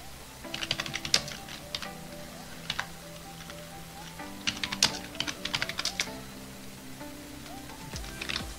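Fingers tap commands on a computer keyboard while controlling a Raspberry Pi remotely, quick clusters of close clicky keystrokes with short pauses between them, over a faint steady hum.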